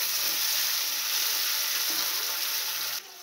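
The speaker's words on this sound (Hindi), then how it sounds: "इसमें डालेंगे ये टमाटर, इसको भी अच्छे से भून लेंगे हम" Tomatoes fry over a medium flame, giving a loud, dense, continuous sizzle that stays steady throughout and drops off abruptly at the very end, with no speech.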